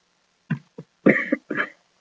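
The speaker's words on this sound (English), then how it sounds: "Sorry. Still coughing." A person coughing several times at close range, two short hacks followed by a couple of longer, harsher throaty coughs, with silence in between.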